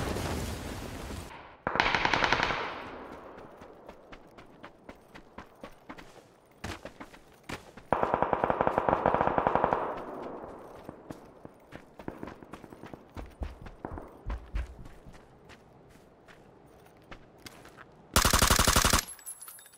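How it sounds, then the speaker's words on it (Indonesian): Gunfire in an online shooter game: rapid automatic bursts and single shots rattle on and off across the stretch, some loud and close, others fainter and more distant. "Eh, di sini ada siapa yang nembak itu?"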